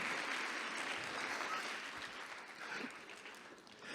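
An audience claps hands as royalty enters a hall during a cultural event, a continuous soft wash of clapping heard at a distance at low level.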